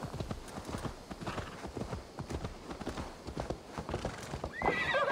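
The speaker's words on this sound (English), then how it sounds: "I like my new horse." Horse hooves clip-clop in Assassin's Creed Valhalla, a quick rhythmic trot of fairly faint, close steps, ending with a brief neigh near the close.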